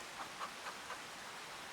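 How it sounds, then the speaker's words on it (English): Rain falling steadily in the farming game Farming Simulator 25, a soft constant wash of noise with a few faint chirp-like blips early on. "wait until the rain is done"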